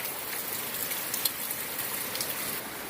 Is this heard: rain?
yes